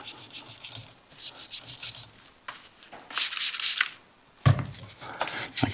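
A towel sprayed with prep solvent rubs over a blue magnesium Porsche GT4 RS wheel before coating, with close, brisk swishing strokes in uneven bursts and short pauses.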